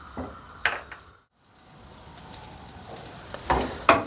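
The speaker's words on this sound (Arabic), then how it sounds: "بتجيبوا لي مقلاية وبننزل عليها معلقتين من الزبدة." Two spoonfuls of butter melting in a frying pan, a soft sizzle that builds after a brief pause, with a couple of sharp clinks from the utensil, close by.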